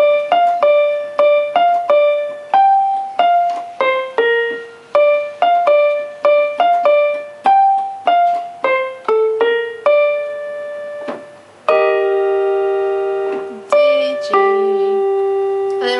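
A clear single-line piano melody plays note by note at a steady, moderate pace, with a few held chords toward the end and no talking.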